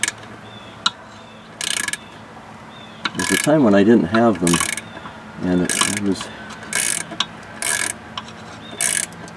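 A flex head ratcheting box wrench clicks in short, close bursts while working on a Mercruiser Alpha 1 stern drive water pump, with someone talking between and over the ratcheting.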